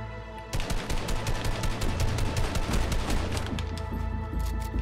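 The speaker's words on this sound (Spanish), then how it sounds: "Qué mal disparo" Rapid gunfire from the video game Fortnite, a dense fusillade of repeated shots starting abruptly after a brief pause and continuing loud and steady to the end, with game sounds layered underneath.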